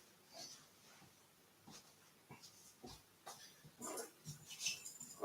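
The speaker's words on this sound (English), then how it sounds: "the dogs are waking up as well" Two Jack Russell terriers waking up give soft, faint whimpers and snuffly breaths in scattered bursts, close by in a quiet room.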